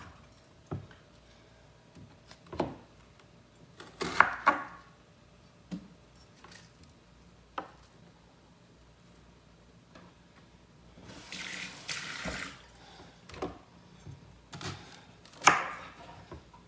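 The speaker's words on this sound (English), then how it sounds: "I'm going to cut up this onion" Knife chopping an onion on a board for Kansas beef stew, with a handful of sharp, irregular cuts and a few louder clusters of chopping over a quiet kitchen background.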